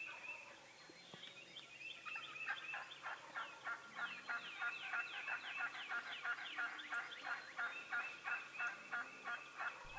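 Wild turkeys gobbling in a Kansas field during an archery hunt, repeated rapid gobbles from several birds at middle distance, rising and falling in a rhythmic series over quiet outdoor background.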